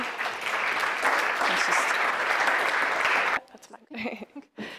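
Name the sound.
audience applause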